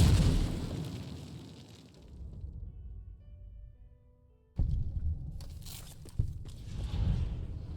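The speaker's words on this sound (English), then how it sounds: "You mean the nest I'm about to explode?" A nest blows up in Fallout: New Vegas with a loud, sudden boom that bursts in after a stretch of quiet ambience, then rumbling debris and further crackling blasts follow.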